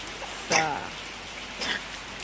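Steady rain falls outdoors as a continuous soft hiss, with a couple of brief louder splashes or voice-like sounds breaking through.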